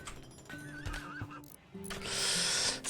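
A horse neighs in the video game Rimworld, a clear whinny rising and wavering over a steady musical drone, with a broader burst of bright noise near the end.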